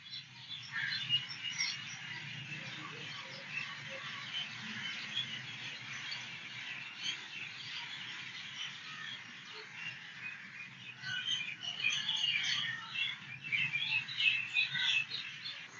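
Mynah birds call in a riverside park, Gandhi Park in Batticaloa, giving a dense, continuous chorus of chirps and chatter at moderate distance that swells toward the end, with a low background hum beneath.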